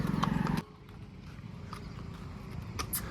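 Mare's hooves clip-clopping beside a dry canal, a few faint scattered hoof strikes after a brief louder opening burst, fairly distant and quiet with no talk over them.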